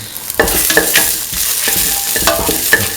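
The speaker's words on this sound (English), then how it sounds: "Mixing the pieces" Ivy gourd pieces sizzle in a pan while being stirred, with sharp repeated scrapes and clinks of the utensil against the pan over a loud, close frying hiss.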